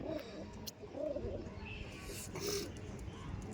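Punjabi tournament-quality cargo pigeons coo softly through steady background noise, the low throaty calls close by and repeated across the moment.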